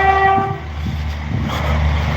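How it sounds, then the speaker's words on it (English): A train passes by with a steady rumble of wagons on the rails, opening with a brief horn tone that fades as the rolling noise continues at close range. "Train coming past."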